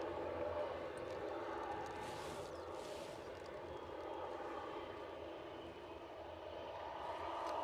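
An Embraer jet airliner departs Edinburgh airport, heard as a steady, distant engine roar that rises and falls gently. It is faint and broadband, and there is no talk.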